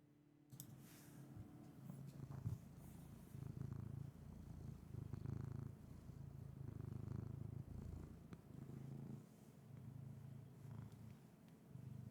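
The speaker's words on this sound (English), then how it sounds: "God, he purrs so loud." Steady loud purring from a cat held close, a continuous low rumble with rhythmic breathing swells running throughout, with a few faint clicks and no talk.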